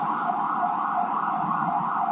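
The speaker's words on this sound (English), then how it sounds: "Here, wait for the siren. Hold for siren." An emergency vehicle siren wails steadily and fairly loud, a continuous pitched tone with slight rise and fall and no talk over it.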